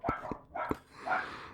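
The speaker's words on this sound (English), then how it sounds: "So it's obviously small dogs, right?" Small dogs, one of them a Havanese, bark in close, sharp yaps: a quick pair, then another burst, then a looser yelping at the end, with no talking.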